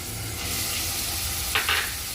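Ground carrot hits hot ghee in a kadai and gives off a steady, dense sizzle that fills the clip. Near the end come two brief scraping stirs, with no voices.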